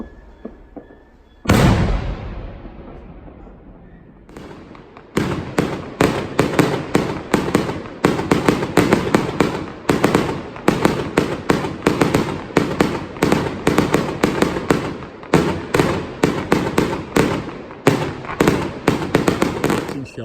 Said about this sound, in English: you've got fireworks going off 365 days a year